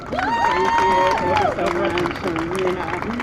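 A crowd claps and cheers at the Canadian National Exhibition opening ceremony in Toronto, a loud, dense wash of applause with a sustained tonal layer of voices or music running through it.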